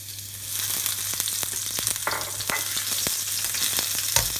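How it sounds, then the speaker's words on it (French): Leek hitting hot oil in a wok for Chinese twice-cooked pork, a steady loud sizzle with scattered crackles and spatula scrapes, a sharper spit near the end, no talking. "Quand l'huile est chaude, on met d'abord le poireau."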